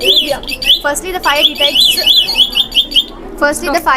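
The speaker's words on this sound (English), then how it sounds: "a fire alarm system is made up of devices that work together and find fire and warn the people to save themselves" Electronic fire alarm siren sounds during a school fire-alarm demonstration, a loud warbling, rising-and-falling electronic wail that repeats steadily and stays close and prominent throughout.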